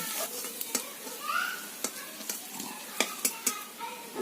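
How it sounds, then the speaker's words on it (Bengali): Potatoes frying in a pan with a steady soft sizzle, broken by sharp clicks and scrapes of a spatula stirring against the metal, up close, with a voice faintly present at moments. "আলুগুলো খুব সুন্দর করে লাল লাল করে ভেজে নেব"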